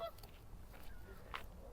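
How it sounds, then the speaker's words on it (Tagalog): A goose honks on a nature walk, one or two short nasal honks at a moderate distance over quiet outdoor ambience, with no talking. "Oh, ayan ang tinatawag nilang goose."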